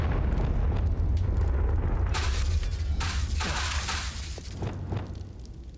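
Confringo fire spell going off in the Hogwarts Legacy video game: loud, dense explosive bursts with a heavy low rumble, peaking in repeated blasts midway and then easing slightly, no talking.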